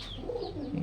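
A pigeon held in the hand gives a soft, low cooing murmur that stays faint and close throughout.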